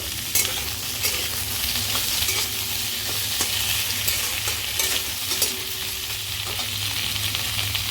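Loud steady sizzling and frying as snake gourd and a ground ginger-cumin paste go into hot oil for a fish curry, a constant close crackle with occasional stirring scrapes throughout.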